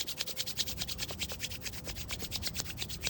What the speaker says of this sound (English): So as I rub my hands together more and more, make note of what happens to the temperature.